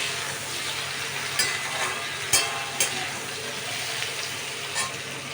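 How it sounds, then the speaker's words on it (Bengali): Pointed gourd (potol) slices sizzle steadily in hot oil with salt and turmeric, a dense, constant crackle close up, marked by a few sharp clicks and scrapes of stirring and no voices. "এগুলোকে আমি ভালো করে ভেজে নেবো"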